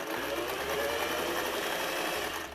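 A sewing machine stitches down a toddler apron in one loud, steady run of rapid needle clatter, close up and uninterrupted.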